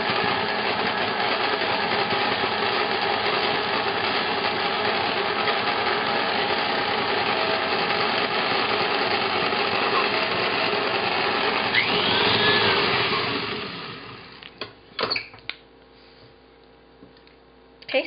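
An electric mixer runs steadily, beating chocolate chip cookie dough just after an egg is added, a loud continuous whir that winds down and stops near the end, followed by a few clinks.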